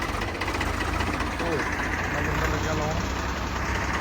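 A low, steady Swaraj 735 tractor engine idle rumbles throughout with a rhythmic knocking, while a person talks over it.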